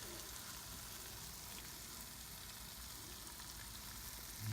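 Hot Italian sausages sizzle steadily on a Pit Boss ceramic grill, a continuous even frying hiss that swells slightly louder at the end, with no talking.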